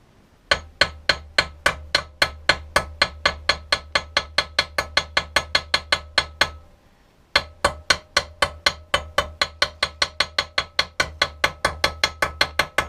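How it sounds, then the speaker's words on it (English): Rapid, evenly paced hammer taps on a brass rivet ring out sharply, dozens in a row, with one brief pause midway before the tapping resumes. "then hammer it on the back"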